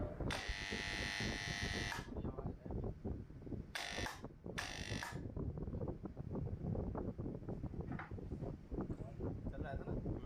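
A bending machine drones with a steady buzzing hum while being adjusted for a limit switch fault, joined by a few brief bursts of harsh hissing noise.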